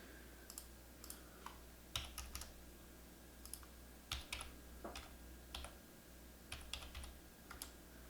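Keys clatter on a computer keyboard in short irregular bursts of quick taps separated by pauses, close and fairly quiet over a low steady hum.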